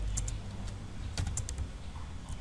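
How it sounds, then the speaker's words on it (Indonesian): Typing on a computer keyboard while writing database code, a brisk run of close, crisp key clicks in uneven bursts with no talking. "Jadi kalau harus mengetik semua agak lama ini"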